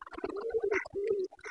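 Soft, throaty pigeon cooing, two drawn-out low coos in close succession, close by with a faint rustle around them.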